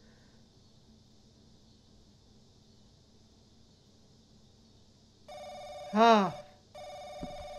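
A telephone rings in The Crooked Man horror video game, one clear electronic ring burst after a quiet stretch of low hum, with a brief spoken exclamation over it.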